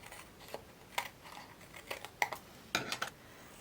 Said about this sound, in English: And then I can hold it, turn it around, and just cut off the sides.